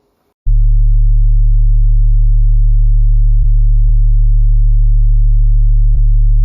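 Steady mono sub-bass sine tone passed through an Ableton Utility plugin, a loud pure low hum held evenly for about six seconds after a short faint voice, with a few tiny clicks along the way.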